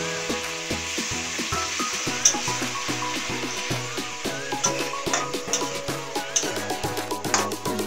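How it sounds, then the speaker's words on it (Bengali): Eggplant and dried-fish curry sizzling in a pan as a little water is added, with steady frying hiss and repeated rhythmic scrapes of stirring, close and moderately loud. "এখানে আমার তরকারিটা সেদ্ধ হয়ে গেছে, এখন এখানে দিয়ে দেবো অল্প পরিমাণে জল।"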